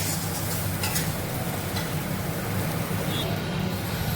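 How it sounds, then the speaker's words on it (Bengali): Bombay duck (lote fish) curry cooking down in oil in a pan, a steady soft sizzle and frying hiss throughout, continuous and fairly close. "আর একটু কষাতে হবে যতক্ষণ আর একটু তেল না বেরোচ্ছে ততক্ষণ পর্যন্ত"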